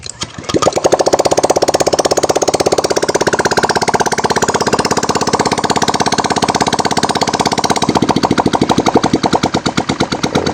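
A Honda Click 125 scooter without its exhaust pipe fitted starts up after a brief pause and settles into a loud, steady, rapid-pulsing idle during its automatic warm-up. No one speaks.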